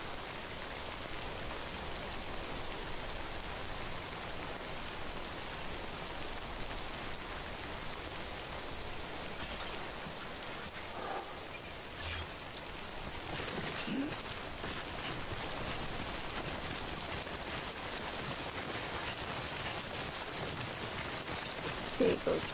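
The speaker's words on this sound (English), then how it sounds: "Will the rain go away at some point?" Steady, dense rain hiss in the video game Death Stranding fills the whole stretch, with a few faint tonal blips and soft thuds breaking through the even downpour.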